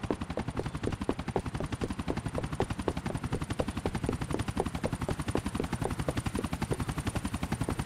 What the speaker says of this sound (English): I think I can see a helicopter.